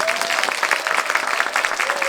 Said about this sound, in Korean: 다시 한번 우리 최수순 선생님께 뜨거운 박수로 어, 격려해 주시면 감사합니다.